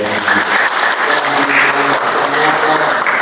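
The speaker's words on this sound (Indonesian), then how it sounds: "Berikan tepuk tangan" Dense, steady applause from a church congregation fills the whole stretch, with faint musical tones running underneath.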